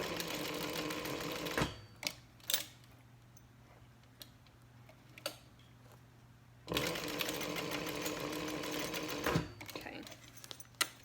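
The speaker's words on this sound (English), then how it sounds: "I'm just going to make a couple of stitches." Sewing machine stitching fabric for a bag in two bursts of steady, fast mechanical whirring, a short run and then a longer one, separated by quiet clicks and handling taps; close and fairly quiet, with no talking.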